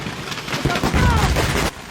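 A rapid series of New Year's fireworks going off at a fireworks store's designated area in Antipolo, Rizal: overlapping booms and crackles with whistling streaks, loud and continuous for about a second before cutting off.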